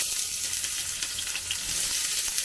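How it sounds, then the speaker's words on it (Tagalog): Onion and ginger sauté in very hot cooking oil, making a dense, continuous near sizzle and hiss that holds steady with no voices over it. "I think it's mantika is really hot. Hot. And then, syempre, we have to saute the onion"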